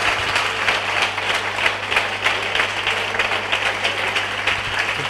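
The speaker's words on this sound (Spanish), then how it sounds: "Dale un aplauso al Señor" A church congregation at a worship service gives sustained applause, a dense, even wash of many hands clapping over a low steady hum, with no pauses throughout.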